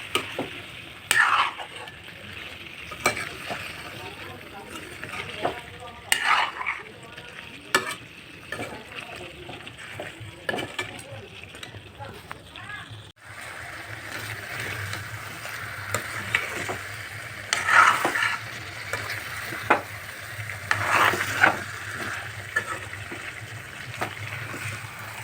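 Meat frying in a pan on a home stove, stirred now and then, with soft sizzling, scraping and clinking under a low steady hiss; the sizzle grows denser and louder in the second half.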